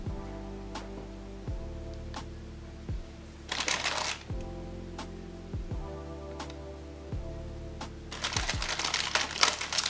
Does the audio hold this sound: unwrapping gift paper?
yes